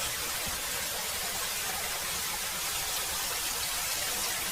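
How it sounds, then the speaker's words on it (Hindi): Steady, heavy rain hissing down on a forest with dense patter, close and constant throughout. "2-3 बादल मिलकर उस जंगल में खूब जोरों शोर से बारिश करने लगते हैं"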